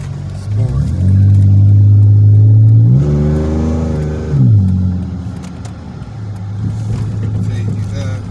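A car engine in sport mode revs loudly and close, rising in pitch, holding, dropping, then surging again in a second shorter burst before settling to a lower idle drone, with someone talking briefly over it.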